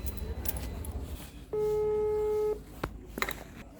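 A telephone is dialled before calling a delivery courier: one steady electronic tone rings for about a second amid faint room noise and light clicks, with a voice murmuring quietly in the background.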